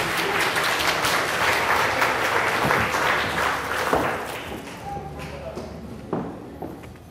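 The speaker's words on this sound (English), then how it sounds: "Round of applause for Ray." A crowd at a Mr. Illusion ghost train magic show in Mt. Pleasant, Iowa claps for a volunteer, steady applause that thins and fades toward the end, with a few thuds among the clapping.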